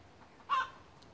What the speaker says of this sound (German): Jetzt sagen die Hühner auch noch was.